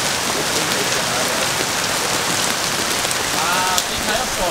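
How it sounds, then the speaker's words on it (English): Constant hard drumming of hail on a Ford Ranger Raptor's roof during a big hailstorm, loud and even throughout, with a brief sharp knock near the end. "Big hail storm, right?"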